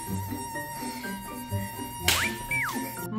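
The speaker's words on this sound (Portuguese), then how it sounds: "Mamãe, o nosso quarto está cheio de moscas." Flies buzz steadily through a room, with a constant close whine and drone over a soft musical background. One higher swooping tone is heard partway through.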